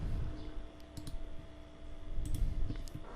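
A few quiet computer keyboard clicks, including an Enter key press, sound as a short sparse sequence over a low background hum.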